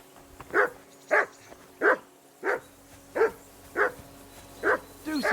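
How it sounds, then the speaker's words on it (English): A dog in Kingdom Come Deliverance II barks in a steady series of about eight short, loud yelps roughly every two-thirds of a second, with whimpering tones, close by and alone over faint background ambience. "Be quiet, you flea-bitten hound."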